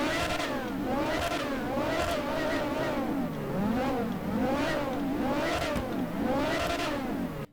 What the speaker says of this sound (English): let's take a listen to these revs